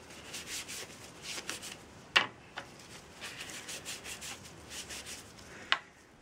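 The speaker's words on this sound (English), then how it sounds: "using the alcohol wipe, wipe that off as well." An alcohol wipe rubs across moulded plastic telescopic pole clamp parts being prepared for gluing, giving a soft, steady scrubbing swish in repeated strokes with a couple of sharper knocks, close and quiet with no talking.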